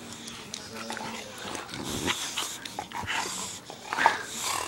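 Small puppies whimper, snuffle and pant close by in a steady stream of soft, overlapping sounds, with a few sharper yips near the end and occasional voice sounds in the mix.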